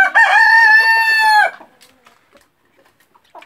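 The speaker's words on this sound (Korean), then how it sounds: "청계의 수탉이 주인을 맞이하네요" A Araucana rooster crows loudly and close by in one long call lasting about a second and a half, followed by faint quiet clucking.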